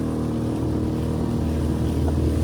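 Fishing boat motor running at full speed toward shore with a big wave behind, a steady loud engine drone with wind and water rush throughout, no talk.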